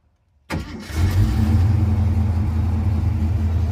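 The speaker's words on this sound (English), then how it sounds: "Let's see if she'll start up on this cool day." After a moment of quiet, a Fox-body Ford Mustang engine with a welded V-band exhaust cranks and fires up on a cool day, then holds a deep, rumbling idle nearby.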